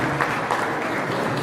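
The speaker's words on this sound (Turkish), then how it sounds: "Alkışlar alıyorum." Audience clapping at a live Turkish event, steady dense applause from a crowd filling the whole moment, moderately loud and without talk.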